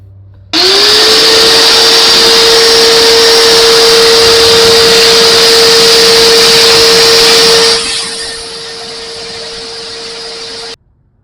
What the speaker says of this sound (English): I'm gonna go ahead and clean this all back out, vacuum it